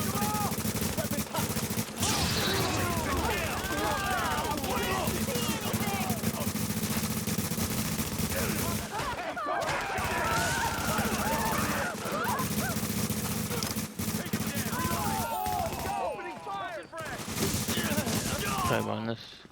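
Video game gunfire crackles in dense bursts through most of the stretch, loud and continuous, with brief gaps, over a busy mix of voices and game noise.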